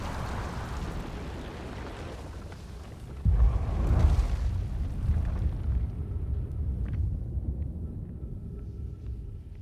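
An explosion in the video game The Outer Wilds erupts as a deep booming rumble that swells, then rolls on and slowly fades over a low background drone.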